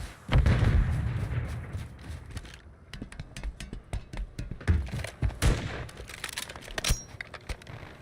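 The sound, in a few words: stun grenade going off in a video game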